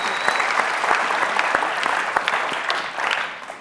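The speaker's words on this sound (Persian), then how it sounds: "تشویق کنیم." A game-show studio audience bursts into steady, dense applause, loud and close, with sharp individual claps standing out through the whole burst and no talk over it.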